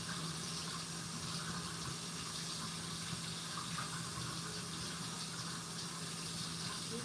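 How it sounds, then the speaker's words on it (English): Tap water running over a green pepper being rinsed, a steady faint gush and splash from a kitchen faucet, continuous and unbroken with no voices. "I'm just rinsing off this green pepper."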